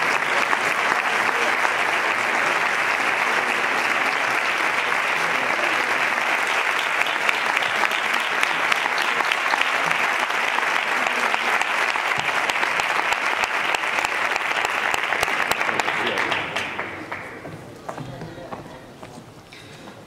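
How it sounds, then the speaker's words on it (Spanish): Audience applause at a flamenco contest award ceremony in Andújar, a loud sustained clapping from a large crowd that holds steady for about sixteen seconds before fading out quickly. "Un fuerte aplauso a Cristina, por supuesto."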